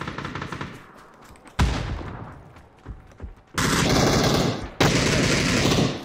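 Gunfire in the video game PUBG: a rapid burst of automatic fire comes first, then scattered single shots, then heavy sustained bursts, loud and dense near the end.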